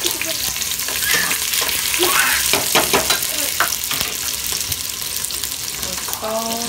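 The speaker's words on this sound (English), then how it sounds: "you put them into oil. Yeah, you fry them for a little bit" Cut onions frying in oil for a chickpea, rice and lamb mutabak, a loud, close, steady sizzle with crackles and occasional scraping stirs throughout.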